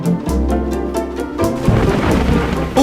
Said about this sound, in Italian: O ancora al rischio di una pioggia improvvisa